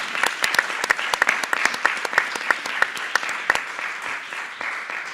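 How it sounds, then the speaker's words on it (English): A room full of people at a university board of regents meeting gives another round of applause, dense and fairly close, with a few sharper claps standing out before it tapers off. "I think you deserve another round of applause"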